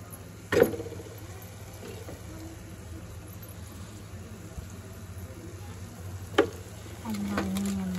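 Chili and spices sizzle in hot oil in a pan while a vegetable dish is cooked at home, a steady soft frying hiss with a couple of sharp clinks of a spoon and a louder sizzle near the end.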